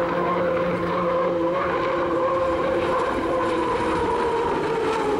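A racing hydroplane boat's engine roars steadily through a qualifying lap at the Madison Regatta, a loud, sustained high-pitched drone with a rough, droning edge that carries unbroken throughout.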